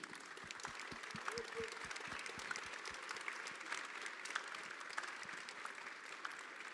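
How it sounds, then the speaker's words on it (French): Audience applause for the organisers at the opening of an ecological rurality gathering, a dense, sustained clapping that carries steadily throughout with no voices standing out. "Je pense qu'on peut les applaudir très chaudement."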